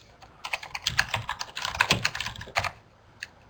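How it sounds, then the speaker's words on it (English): Quick typing on a computer keyboard at a desk, a close burst of irregular clicking keystrokes that builds to dense clatter, then thins to a few scattered taps, with no talking. "It's actually me typing"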